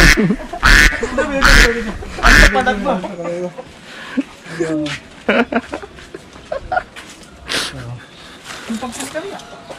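Many ducks quack repeatedly at a mosquito larvae farm in Bantul, loud and close in bursts, mixed with people talking nearby throughout.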